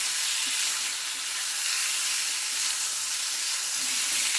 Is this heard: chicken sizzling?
yes